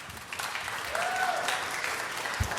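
People applaud at a city health commission public meeting, with a moderate wash of clapping from the audience that holds steady throughout, while faint voices carry underneath.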